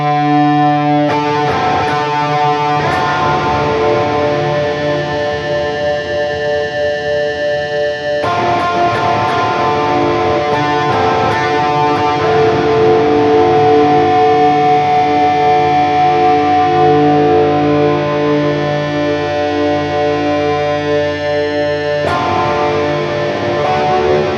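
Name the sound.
electric guitar with reverb effect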